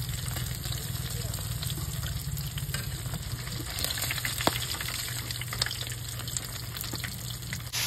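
Dried fish (daing) frying in hot oil until crispy, with a loud, steady sizzle and crackle that runs continuously throughout and stays close, with occasional sharper pops.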